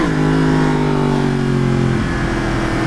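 Yamaha FZ-10 motorcycle engine revving loudly and close, its pitch falling steadily as the revs drop off over a few seconds.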